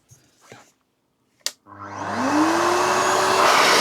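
A pet blower dryer, used on an RC model, clicks on and spins up into a loud, steady rushing whine after a couple of brief knocks, holding strong on its slowest setting to the end.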